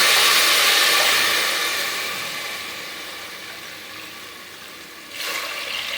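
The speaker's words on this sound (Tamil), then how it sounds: "அரிசி பருப்பு வேகிற அளவுக்கு நம்ம தண்ணி சேர்த்துக்கோம்." Water poured into a pot of rice and dal for cooking, a steady rushing pour that fades gradually, then a brief fresh splash near the end.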